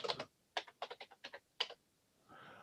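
Quick bursts of keystrokes on a computer keyboard, several short clusters of close, crisp clicks with brief pauses, then a soft hiss at the end; no talking.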